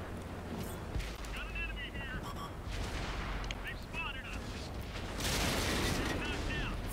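German artillery fire booms in a World of Tanks match, heavy blasts and mechanical clatter rising over a constant low rumble, with players talking throughout.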